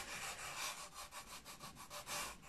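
Steady rhythmic rubbing of a worn wet sponge over the rough surface of a 1/72 scale Airfix Vulcan plastic model kit, quiet and close, with repeated back-and-forth strokes and no talking.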